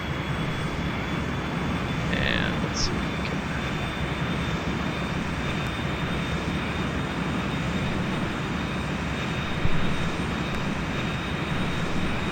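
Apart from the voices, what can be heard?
aircraft engine starting up in X-Plane 10 flight simulator video game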